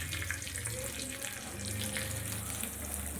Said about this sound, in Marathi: हा तडका मी आता आपल्या चटणीमध्ये घालणार आहे